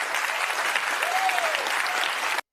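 A studio audience claps steadily and densely for a couple of seconds at a livestreamed talk show, loud and continuous, and the sound cuts off abruptly.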